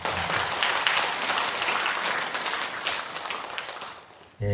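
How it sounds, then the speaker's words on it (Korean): A church congregation at a Sunday service claps together in a full, sustained round of applause that stays loud and even before fading near the end and cutting off abruptly. "우리 같이 한번 박수하도록 하겠습니다."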